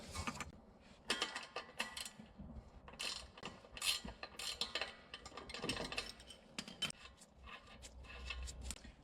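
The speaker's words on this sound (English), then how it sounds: "I'm gonna disconnect the sway bar end link from the lower control arm right down here" A hand ratchet working the nut off a sway bar end link on a 2014 Subaru WRX/STI, quiet, close bursts of rapid clicking with short pauses between strokes and no voices.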